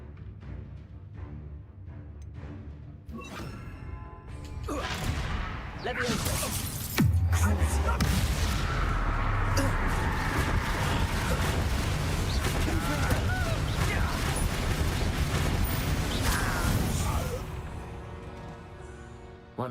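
A Confringo blasting spell goes off in a Hogwarts wizarding video game, a loud booming explosion with a sustained rumbling, crackling tail lasting several seconds, set within busy game audio.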